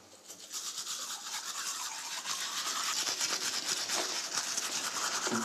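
A manual toothbrush scrubs teeth up close, a continuous brisk rasping of bristles with rapid back-and-forth strokes that grows slightly louder and keeps going without pause.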